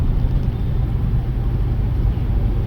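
Kenworth semi truck with a 13-speed transmission, its diesel engine droning loud and steady in the cab with a deep rumble while shifting into sixth gear; no distinct shift change stands out.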